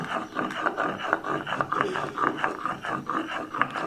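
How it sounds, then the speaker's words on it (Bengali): Chillies and spices are ground into a paste on a traditional stone slab, a continuous close rasping rub with a back-and-forth rhythm of grinding strokes. "আমি এখানে মশলাটা শিলেই বেটে নিচ্ছি"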